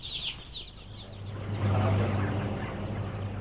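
Broiler chickens in a poultry house, a flock at the start of the rearing cycle, give brief high chirps and calls over a constant low ventilation hum that swells midway.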